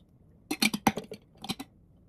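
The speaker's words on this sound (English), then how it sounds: "it drips down in here." Water drips inside a container of sprouting seeds, giving a quick cluster of small, close taps and clinks followed by a couple more after a short pause.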